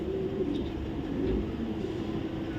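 Low, soft cooing of racing pigeons, including a male, repeats over a constant rumbling background, the birds close by.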